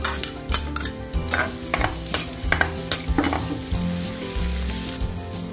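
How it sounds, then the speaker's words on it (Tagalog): Onion sizzling in hot oil in a kawali pan, cooked for mince beef and eggplant: a loud, continuous frying hiss, close up, with repeated scraping strokes of stirring throughout and no voices. "lagyan na natin ng mantika yung kawali. Lagay na po natin yung sibuyas."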